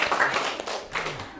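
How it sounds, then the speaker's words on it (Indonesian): Classroom clapping during a university lesson: a short burst of a few hands clapping close by, uneven and brief, without talk. "Tepuk tangan buat Neza."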